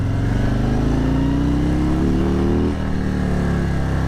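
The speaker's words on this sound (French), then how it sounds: "une Harley, ça fait quand même beaucoup plus de bruit que ce que je fais là" Harley-Davidson motorcycle riding in Los Angeles, a loud, close, continuous engine drone that rises steadily in pitch, then drops off briefly near the end.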